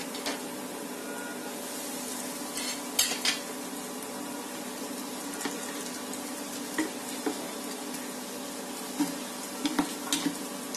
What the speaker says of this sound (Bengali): বাকি নাস্তাগুলি আমি এভাবেই ভেজে নিব